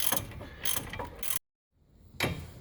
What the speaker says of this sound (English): I'm using a torque wrench set for 90 degrees.